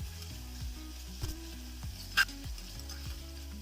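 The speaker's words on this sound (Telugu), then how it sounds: "ఇప్పుడు ఇందులో వేసిన వాము జీలకర్ర కొద్దిగా ఫ్రై అవ్వాలండి" Ajwain and cumin seeds fry in ghee with a soft, steady sizzle and a faint crackle close by, and one sharp metallic tap partway through. No one speaks.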